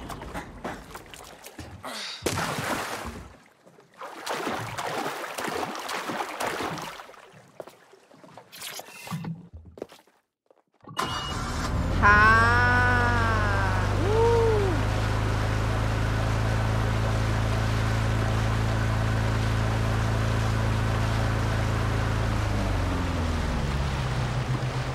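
A boat engine in the Watch Dogs video game cranks and catches, then settles into a loud, steady motor drone with rising whine over water. It comes after a stretch of scattered noises and runs alone to the end.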